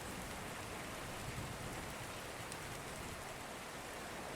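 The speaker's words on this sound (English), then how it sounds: "the gentle rain will keep you company a little longer." Gentle, steady rain falls continuously, an even, soft hiss of drops on surfaces with no breaks, moderately close and alone without voices.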